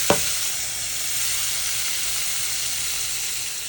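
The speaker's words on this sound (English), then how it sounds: "once you have the shrimp in the cast iron, make sure it's not going to stick to the bottom" Chopped shrimp frying in bacon grease in a cast iron pan makes a steady, close, loud sizzle that begins with a brief clatter and hisses on evenly with no voices.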